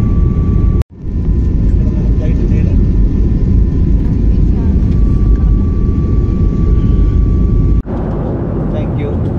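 A steady, loud engine roar fills a Malaysian airliner cabin on a bumpy Kuala Lumpur to Langkawi flight, constant and droning, interrupted by two brief sharp dropouts.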